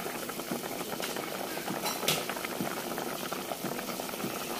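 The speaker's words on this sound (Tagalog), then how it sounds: "Pakuloyin uli natin ng 3 minutes hanggang lumambot at maluto." Beef nilaga with potatoes and corn boiling in a covered pot, a continuous low bubbling and simmering hiss with occasional soft pops and a brief lid clatter.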